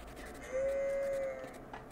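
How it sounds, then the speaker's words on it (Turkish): A single drawn-out goat bleat from a pen in the medieval farming game Medieval Dynasty rises steadily out of quiet background ambience, holding a clear, even pitch for about a second before it fades. "Bakalım keçilerimiz burada."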